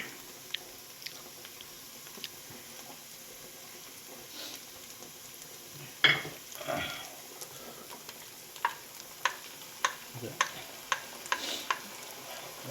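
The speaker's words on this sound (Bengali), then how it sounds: "ব্রাউন ভাজা হয়ে গেলে যে আদা রসুন কাঁচা লঙ্কার পেস্ট করা ছিল সেটাকে আমরা অ্যাড করব" Ginger, garlic and green chili paste fries in a pan with a low, steady sizzle, broken by a sharp clatter and a run of regular stirring taps near the end.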